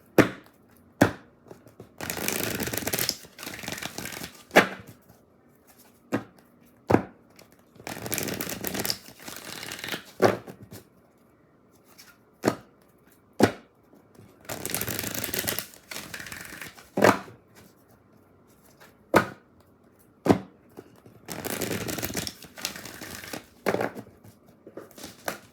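Oracle cards being shuffled by hand: bursts of dense riffling and crisp papery clicks alternating with sharp single taps, close and moderately loud, with no talking.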